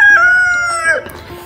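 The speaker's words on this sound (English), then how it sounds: "Chickens make a lot of different sounds." A single loud, close rooster-like chicken call, a long drawn-out tonal cry that fades into a short gurgle.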